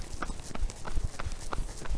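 Quick, evenly spaced footfalls of someone running on a windy beach, each step a soft thud recurring several times a second over a constant rush of wind.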